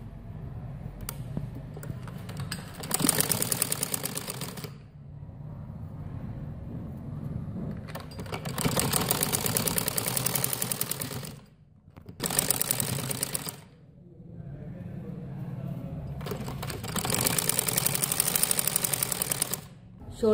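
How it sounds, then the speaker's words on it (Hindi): Sewing machine stitching the shoulder seam of an umbrella frock, running in three or four fast rattling bursts separated by short pauses, close and fairly quiet. "अब मैं शोल्डर की सिलाई करने लगी हूँ।"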